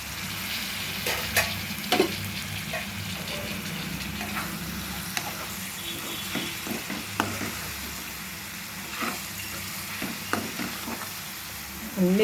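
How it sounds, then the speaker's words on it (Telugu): Boiled eggs fry in egg pulusu curry with a steady close sizzle. A spoon stirs them, scraping and tapping the pan now and then over about twelve seconds, and nobody speaks. "కొద్దిగా ఈ ఎగ్స్ని అందులో బాయిల్ చేద్దాం, కొంచెం వేగేలాగా"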